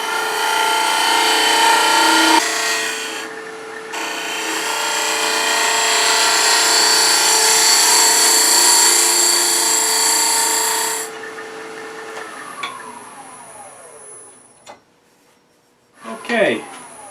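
Wood lathe turning a walnut garlic keeper box, a loud steady whine and scraping of the tool cutting the spinning wood for about eleven seconds, then the motor winding down with a few brief rubbing sounds.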